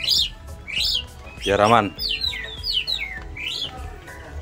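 A caged oriental magpie-robin (kacer) at a bird gathering lets out repeated bright, sharp chirps and whistled trills, close and clear, while someone speaks briefly in the middle.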